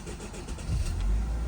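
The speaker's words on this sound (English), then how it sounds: "See how long it takes to get the engine to start." A Cadillac ATS with a 2.0L or 2.5L engine and a camshaft sensor fault cranks and catches. The engine noise swells loudly partway through the short, close burst.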